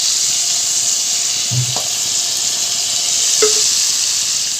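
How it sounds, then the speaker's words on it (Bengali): Fried large pabda fish pieces go into a sizzling curry in a pan, giving a steady hiss with a couple of brief splashy sputters as they land, no talking. "এখন আমি ভেজে রাখা মাছ দিয়ে দেবো বড় পাবদা"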